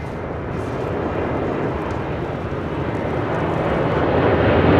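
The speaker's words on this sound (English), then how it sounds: "Heavy MD-11 will depart." A heavy MD-11 jet departs LAX runway 25 left, its engines a loud, broad, steady roar that swells gradually over the few seconds, with no voices.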